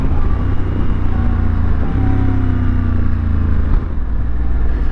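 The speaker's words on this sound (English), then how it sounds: "Upshifting is very buttery with the DCT with this shifting." A 2025 Honda Africa Twin motorcycle with a DCT transmission rides along with a loud, steady engine drone, its pitch stepping as gears change, with continuous wind and road noise throughout.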